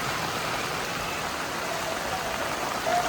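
Heavy rain pours steadily and loudly in a village in Idukki, Kerala, a dense unbroken hiss of drops close by with no voices.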